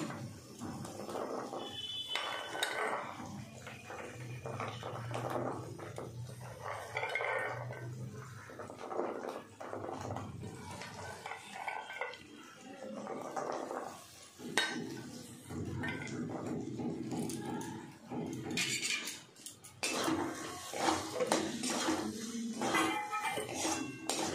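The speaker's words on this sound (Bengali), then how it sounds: "এবার আমি কড়াইশুঁটিগুলো দিয়ে দিচ্ছি।" Green peas tipped into a cooking pan for a Bengali doi kopi dish, bringing busy clattering of pan and utensils with light metallic clinks throughout, close and fairly loud.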